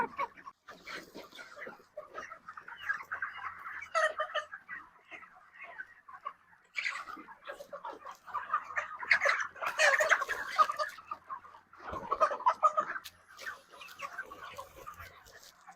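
Broiler chickens on a farm at feeding time, day 33, cluck and squawk in irregular bursts across a crowded shed, varying from faint to fairly loud, with no talk.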